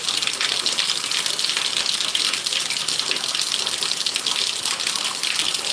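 Heavy rain pours in a steady, dense hiss without pause, loud and close, like water gushing off a roof during a downpour; no talking.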